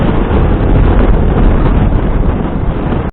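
Loud, steady buffeting wind roars into a motorcycle helmet with the visor open, a dense rushing noise with no voices, cutting off abruptly at the end.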